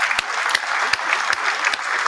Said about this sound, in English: I'm going to go ahead and give y'all a round of applause if I can pull it up real quick.